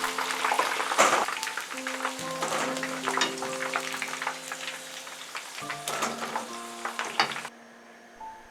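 Chicken pieces fry in hot oil over high heat for sweet and sour chicken, giving a steady, close sizzle under soft background music that cuts out near the end.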